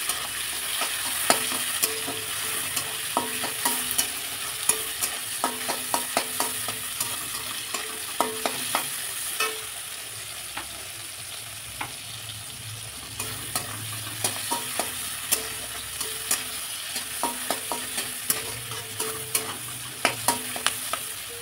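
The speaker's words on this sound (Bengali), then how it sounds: "সামান্য একটু নুন দিয়ে টমেটোটা একটু নেড়ে ছেড়ে নেবো, যাতে করে টমেটোটা তাড়াতাড়ি গলে যায়।" Chopped tomatoes with a pinch of salt are stirred in a sizzling frying pan, a steady fry underneath many rhythmic spatula taps and scrapes over about twenty seconds, close up with no talking.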